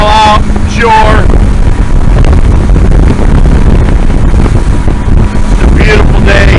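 Strong wind roars over a fishing boat heading to port about a mile off the Lake Erie shore in choppy water, a loud, steady buffeting rush on the microphone with a motor hum underneath.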